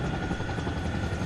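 Helicopter in the Arma Reforger video game lifting off, a steady loud rotor and engine roar with dense thumping blade chop filling the whole clip, no talk over it.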